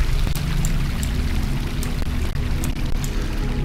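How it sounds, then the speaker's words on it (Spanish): Water pours steadily in from one side in a Minecraft game with a DayZ mod, a loud continuous rushing wash with faint splashy ticks and no talk. "Y hay agua entrando desde allá."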